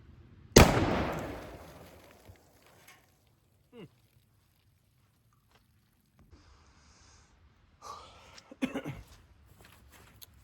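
Remington Tac 14 shotgun firing a 2 3/4 inch rifle slug outdoors: one loud, sharp blast with a long fading tail, followed later by quieter handling clicks and rustles.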